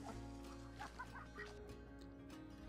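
Chickens clucking and calling on a homestead farm, the fowl sounds fairly close and layered over a steady background hum, with no talk.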